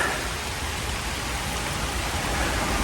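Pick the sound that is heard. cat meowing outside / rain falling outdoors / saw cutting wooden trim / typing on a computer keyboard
rain falling outdoors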